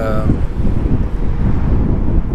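Strong wind blowing near wind turbines outside Palm Springs, California, a continuous low buffeting roar striking the microphone, loud and unbroken throughout.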